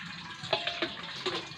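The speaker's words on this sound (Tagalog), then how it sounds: "Marunong na siya magigib ng tubig ah." Water is scooped with a ladle and poured, producing a few quiet splashes and trickles in short bursts, close by.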